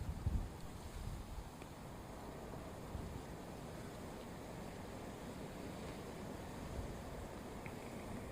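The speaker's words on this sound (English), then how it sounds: "The wind just changed direction. It's pushing from behind me there, for the most part, onto the umbrella." Wind blows outdoors at an airport viewing spot and pushes onto an umbrella, a steady, loud, broadband rush of wind noise with low buffeting throughout and no talking.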